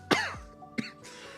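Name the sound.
coughing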